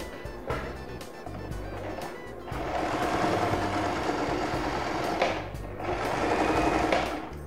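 A sewing machine stitches a fiber-filled section of a handmade toy doll's fabric, its motor running in a steady, close, fairly loud buzz with brief pauses between bursts of stitching.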